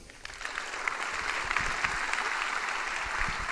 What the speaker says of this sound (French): je demande à la salle de vous applaudir